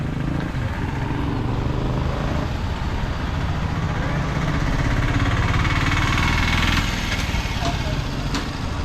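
Tuk-tuks and motorbikes idle on a busy Nairobi street in Kenya, giving a steady, dense engine drone with traffic noise throughout and a few faint clicks near the end.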